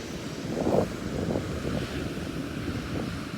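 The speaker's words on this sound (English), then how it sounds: "There's some pretty big waves still." Big ocean waves roll onto a foggy beach at low tide, a steady broad wash of surf mixed with wind buffeting the microphone, with no voices.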